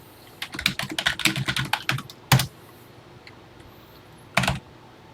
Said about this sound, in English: now let's type it